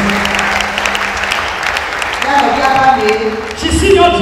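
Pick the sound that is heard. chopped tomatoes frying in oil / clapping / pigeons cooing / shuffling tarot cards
clapping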